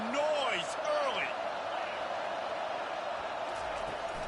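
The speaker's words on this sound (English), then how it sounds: "This crowd bringing the energy and noise early." Stadium crowd noise in the College Football 25 video game, a broad, steady roar of a large crowd with a few whistles and rising cheers near the start, loud and sustained.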